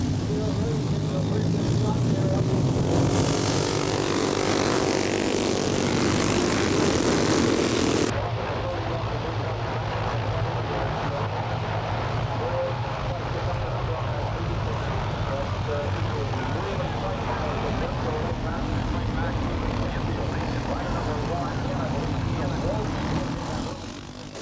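Vintage motorcycles race at Daytona International Speedway during the 50th-anniversary Bike Week, a loud, steady engine roar that is heaviest for the first eight seconds and then continues slightly lower, with voices mixed in.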